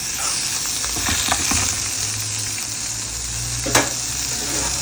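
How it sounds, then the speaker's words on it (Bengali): Fish and eggplant fry together in a pan, with a close, continuous crackling sizzle, a few sharper pops and a brief clatter of a utensil, with no talk. "আর এইদিকে মাছ ভাজছি আর তার সাথে বেগুন ভাজা।"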